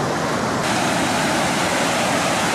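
Ocean waves wash onto a beach in Tahiti, a steady broadband rush of surf close by with constant hiss and low rumble, no voices.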